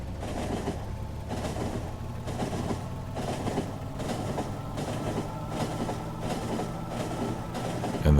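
Train from the video game Factorio rolling along its rails with a steady, even rumble and a regular rhythmic clatter of wheels, moderately loud and continuous throughout.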